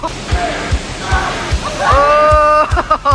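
People jumping into water at a swimming spot, with repeated low thuds of splashes landing in a steady rhythm amid shouts and whoops from a lively group nearby.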